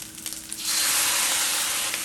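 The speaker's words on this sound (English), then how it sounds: "we're just gonna keep stir frying this" Pineapple fried rice with sauce stir-fries in a hot pan, and a loud continuous sizzle swells after a brief quieter start as the sauce hits the pan.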